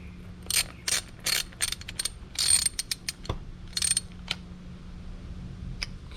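A ratchet tightens a part on a Craftsman mower being repaired, producing several quick bursts of close, crisp clicking with short pauses in between and a few faint knocks afterward.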